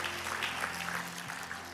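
A church congregation at GSJS Tunjungan Plaza claps along during a sermon, a soft, brief patter of many hands heard at a distance over a low room hum.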